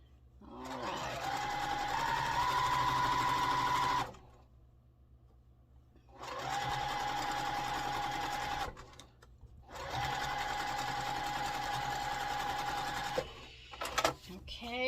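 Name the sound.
sewing machine stitching quilt block fabric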